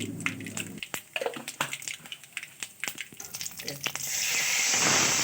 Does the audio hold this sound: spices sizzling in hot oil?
yes